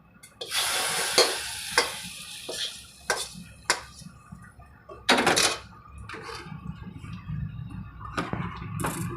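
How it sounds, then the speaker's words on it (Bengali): Fried spice tempering added to moong dal cooked with fish head, giving a sizzle under repeated clanks and scrapes of a ladle against the pot, close by with no talk. "ফোড়নটা আমার ভাজা হয়ে গেছে, এবার দিয়ে দেবো।"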